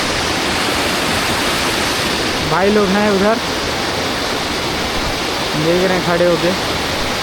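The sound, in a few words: rushing white water of a waterfall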